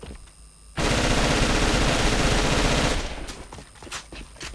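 An AR rifle in the online shooter AVA empties a full magazine in one unbroken automatic burst of about two seconds, loud and rapid, followed by quieter game ambience and faint clicks.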